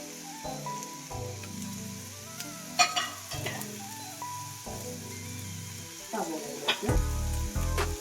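Onions and shallots sauté in an oiled pan, giving a steady close sizzle broken by scraping stirs, with background music playing throughout.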